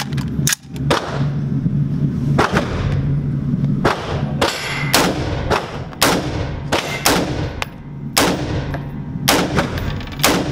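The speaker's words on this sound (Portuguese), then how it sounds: "vamos dar uma olhadinha nos tiros dela" A rapid series of sharp, loud shots from a Taurus T4 .22 rifle, about a dozen cracks fired at an irregular pace, each ringing briefly with a metallic clang over steady background noise.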